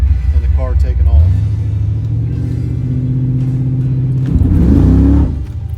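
A Malibu's carburetor engine stumbles as the pedal goes down, rumbling and revving unevenly through a dead spot before pulling, loud and close, with someone talking over part of it.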